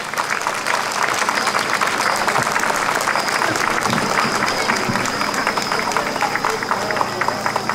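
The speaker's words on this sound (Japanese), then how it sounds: "拍手でお迎えください。" Loud, dense applause fills the moment as a university dance group from Miyagi is welcomed at the Inaba umbrella dance festival at a history museum. The clapping is close and continuous throughout with little variation.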